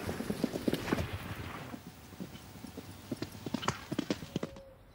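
Several horses walk through the Normandy countryside, their hooves clip-clopping in a steady, overlapping rhythm at close range, fading briefly before picking up again louder.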